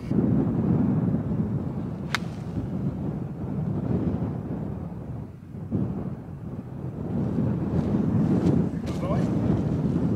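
Strong gusty wind buffeting the microphone on a seaside golf links in Ardglass, a low roaring rumble that surges and eases, with occasional faint sounds beneath it.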